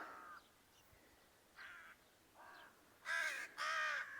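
Several harsh crow caws ring out in separate bursts, the last two louder and nearer, with quiet pauses between them, after rain.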